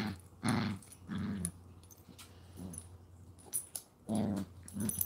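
Two Chihuahuas growling while they play, a series of close, rumbling growl bursts with short pauses, some louder than others and joined by small whimpery yips.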